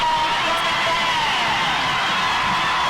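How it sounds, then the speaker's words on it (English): Distant crowd noise at a high school football game between Central Lafourche and South Lafourche, a steady roar of cheering and shouting with no gaps across the short stretch. "Listen to the crowd."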